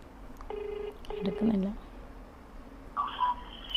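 Phone call dialed and held close to a microphone: a short electronic ringback or dial tone sounds in two brief bursts, then a brief pause and a higher tone, with a faint voice over the line.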